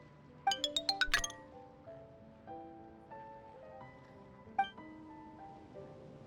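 A wooden mallet strikes an old tuned instrument long unrepaired in Genshin Impact, a quick run of ringing notes followed by a single later hit, over a soft melodic game score.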